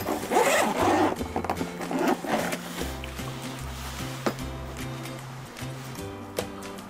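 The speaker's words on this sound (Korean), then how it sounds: "지퍼를 열어보면" Zipper on a soft padded storage case for a Yoichi YH-G400 cordless massage gun pulled open in one drawn-out rasp, close and clear, with no talking.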